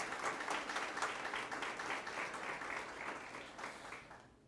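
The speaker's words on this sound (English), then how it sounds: "You can applaud for her." Audience claps steadily at a community service scholarship awards ceremony, a moderate, even patter of many hands that fades out at the end, with no talk over it.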